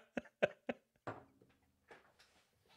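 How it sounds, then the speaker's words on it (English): A few sharp coughs in quick succession, then quieter throat noises and a faint trailing breath, fairly close. "we'll pause for a cough break there"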